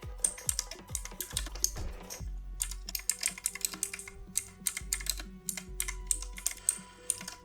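Rapid typing on a computer keyboard while writing CSS, with dense irregular key clicks, a few heavier thumps early on, then quick steady clatter throughout, close and alone with no talking.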